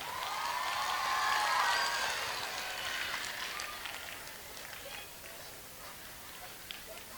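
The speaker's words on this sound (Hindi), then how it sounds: "फिर से एक बार ज़ोरदार तालियां हो जाए।" A crowd applauds at a school annual function at an Urdu high school in Akkalkuwa. The dense, hissing clapping swells early, then gradually thins and fades, heard at a moderate distance.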